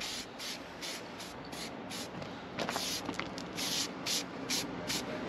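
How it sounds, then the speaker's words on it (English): An aerosol spray paint can puts a light dust coat onto a campervan wheel carrier, with short repeated hissing bursts of varying length over steady background noise and no talking. "I'm going to spray this baby out. So we start off by just giving it a dust coat."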